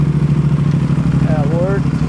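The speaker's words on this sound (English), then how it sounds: "we should be able to start it in gear with the clutch in" A 2026 Aprilia RS 660 Factory motorcycle engine cranks and catches while in gear with the clutch pulled, settling into a steady, close, even idle with a faint squeal over it.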